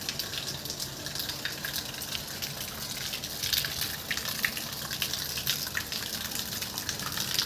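Water gushes down steadily and without pause, a loud broadband rush that fills the whole stretch with no voices, falling continuously as it has for two days.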